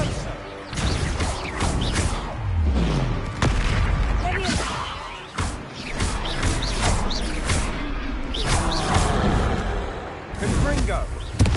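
Confringo fire spell blasts from Hogwarts Legacy crack and boom repeatedly amid battle clatter, loud and close, with voices shouting over the fight.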